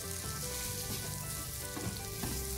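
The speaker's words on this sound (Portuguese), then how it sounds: "quando a azeitona começa a fritar nessa gordurinha aqui" Olives frying in a little rendered bacon fat give off a continuous close sizzle with light crackles throughout, and no voices.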